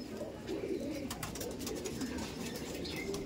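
A loft of racer pigeons keeps up a continuous low cooing chorus, moderately near, over a constant hiss of ambient noise, with no voices.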